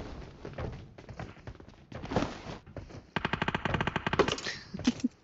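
Rapid machine-gun bursts and single gunshots from a gunfight in the battle royale game BGMI, with rhythmic automatic fire in the second half and a few louder thumping shots near the end.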